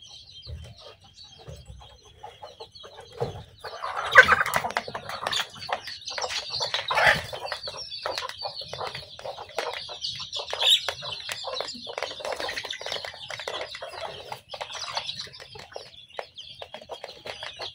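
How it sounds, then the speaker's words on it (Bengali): Desi hens just let out of their coop cluck and chirp in a busy, overlapping stream, with occasional wing flaps and a louder flurry partway through, heard alone without speech. "এখন আমি খোয়ার থেকে মুরগিগুলো বের করে নিলাম।"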